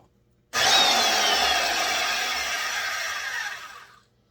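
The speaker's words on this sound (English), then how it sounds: "This is my foot-powered bandsaw" A foot-powered bandsaw with a worn-out blade cuts through wood in one steady, loud, close rasping run of about three and a half seconds that starts abruptly and tapers off at the end.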